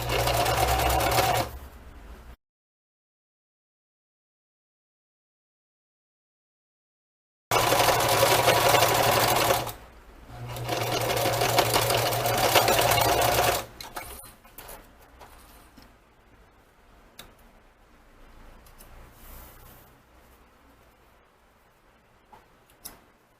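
Sewing machine stitching the hem of a dish towel, running in two loud steady bursts separated by a silent gap, then fading to quiet handling and faint clicks.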